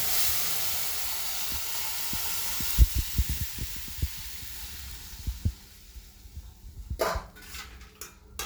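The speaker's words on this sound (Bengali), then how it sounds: "শাকটা ভাজা হয়ে গেছে, এবার আমি সেদ্ধ করা ডালটাকে এখানে দিয়ে দিলাম।" Boiled masoor dal is poured into a pan of fried drumstick leaves: a steady steamy hiss gives way to a series of soft dull thuds and plops, then a few scraping clatters of a utensil against the pan.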